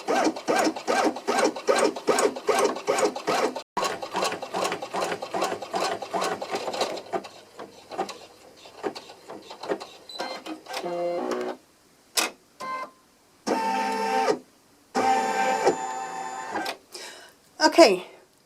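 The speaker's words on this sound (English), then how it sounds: "this is creating my basting stitch." An embroidery machine runs a basting stitch, giving a steady, rapid mechanical stitching rhythm for about seven seconds. After that come shorter bursts of motor whir and clatter with pauses, and a voice speaks over parts of it.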